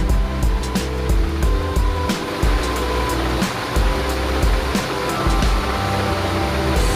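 Alaknanda river below Badrinath flows swiftly, a dense, loud roar of rushing water mixed with low rumbling and faint chiming tones, continuous and close, with no talk.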